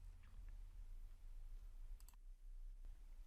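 A computer mouse clicks a couple of times in quick succession, small faint taps over a low steady hum in a quiet room.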